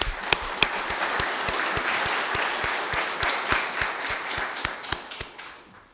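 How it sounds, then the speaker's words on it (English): An audience at a college commencement ceremony gives a round of applause, with many hands clapping in a steady, dense patter at a moderate distance, punctuated by a few sharper individual claps. "If you all will join me in a round of applause."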